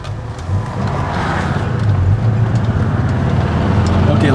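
A 1979 Volkswagen Beetle engine runs under full throttle, a loud, steady low drone with a continuous rumble from inside the car throughout.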